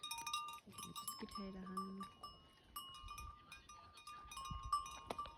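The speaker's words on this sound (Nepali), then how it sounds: "यो सबै भेडाहरू हेर्न सक्नुहुन्छ तपाईहरुले" A flock of sheep kept by herders in a remote hill area of Bajura, with scattered bleats and a tinkling bell under a person talking nearby. The animal calls are soft and intermittent.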